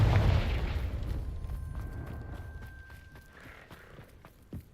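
A Confringo fire spell in Hogwarts Legacy bursts with a single loud boom at the start, its rumble fading over a few seconds, followed by a small thud near the end.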